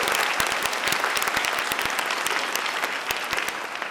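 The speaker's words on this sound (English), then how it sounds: "give her a round of applause for that" A room of people at a county youth awards ceremony in Monroe County, New York, breaks into dense, steady applause, loud and continuous with crisp individual claps throughout, easing only slightly at the end.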